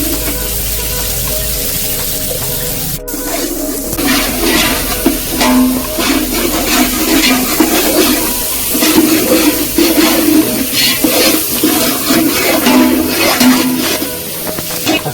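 Chopped onions go into a hot pan for kabsa and set off a loud, steady sizzle that keeps going throughout after a sharp clatter as they drop in.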